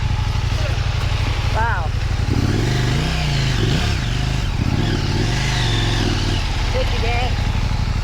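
A 2024 KTM 890 Adventure Rally motorcycle stuck in mud on an Arkansas trail, its engine droning steadily and rising in revs, loud and close, while people talk over it.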